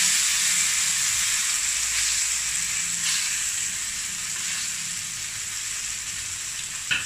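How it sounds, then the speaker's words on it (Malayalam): Mullet fish frying in hot coconut oil in an iron pan, giving a loud, steady, bright sizzle that runs unbroken throughout, with a faint clink near the end. "നമുക്ക് ഇളക്കി മീൻ കൊടുക്കാം."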